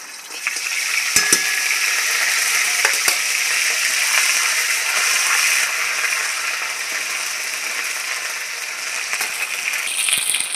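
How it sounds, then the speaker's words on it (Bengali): Ginger paste sizzles steadily in hot oil with dried chili and garam masala for Kashmiri aloo dum, with occasional scraping clicks of a spoon stirring the pan, close and continuous. "আদাটা একটু তেলের মধ্যে নেড়ে নেব।"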